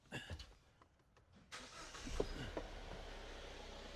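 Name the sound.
Jeep engine starting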